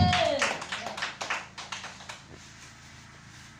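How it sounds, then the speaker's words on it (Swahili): Church congregation clapping during a Sunday service, a burst of overlapping handclaps that thins into scattered, rhythmic claps and fades, with crowd murmur and voices underneath. "Mpe Yesu sadaka nzuri ya makofi kama unabarikiwa."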